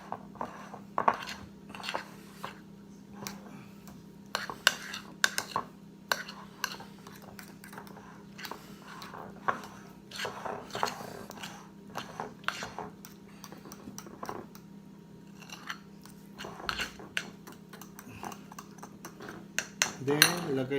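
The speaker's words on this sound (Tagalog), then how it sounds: "mix it. Haluin ng mabuti." A utensil mixes coconut macaroon batter in a bowl, giving irregular clinks and scrapes against the bowl over a low steady background hum. The taps come in close, uneven bursts and are louder near the end.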